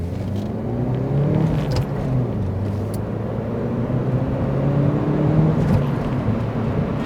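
A DS3 with a 1.6-litre turbo engine accelerating hard, its steady engine drone climbing in pitch under heavy road and cabin noise, heard from inside the car with no talking.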